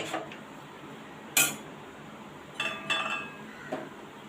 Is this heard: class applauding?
no